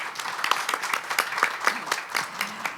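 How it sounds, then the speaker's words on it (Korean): Audience applause at an energy economics research institute results presentation and panel session, a steady roomful of hands clapping at moderate volume with no voices over it. "두 분께 뜨거운 박수 부탁드립니다."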